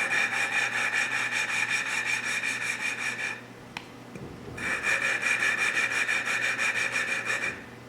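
An engine valve from a 1968 Triumph Spitfire MK3 cylinder head is lapped into its pitted seat with lapping compound, making a steady, rapid back-and-forth grinding rub close up. The rubbing pauses briefly midway, then resumes.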